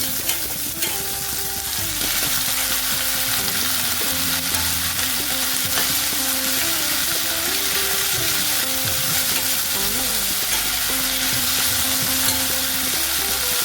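Chopped tomato and green chillies stir-frying in a pan, a loud steady sizzle with constant scraping and rattling of a spatula, and a rhythmic tonal hum running underneath throughout.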